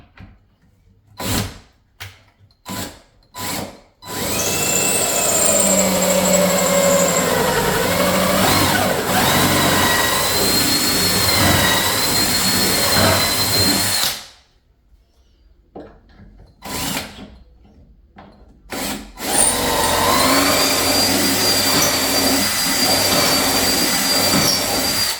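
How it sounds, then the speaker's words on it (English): A power drill boring pilot holes in cabinet wood, several short bursts followed by long sustained whirring runs, close and loud, separated by brief pauses. "we're going to drill the pilot holes in here"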